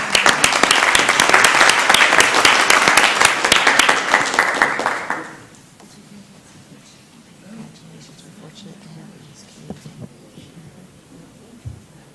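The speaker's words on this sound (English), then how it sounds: "Let's give him another round of applause." Applause at a city council meeting, a loud, dense burst of many people clapping for about five seconds that then stops abruptly, leaving quiet room noise with a few faint knocks and shuffles.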